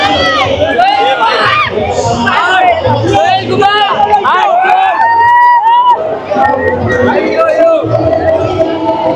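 Dense crowd at an Eid-e-Milad procession in Bhiwandi: loud continuous babble of many voices, shouts and calls overlapping close by, with people chattering all around.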